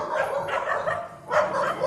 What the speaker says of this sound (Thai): มันชอบเห่าครับรถผ่านมันก็เห่าครับ